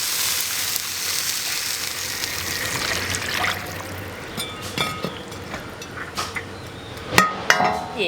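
Braised oxtail in a hot wok as water is added, a loud hissing sizzle that settles into steady bubbling frying with a few sharp clinks and taps toward the end.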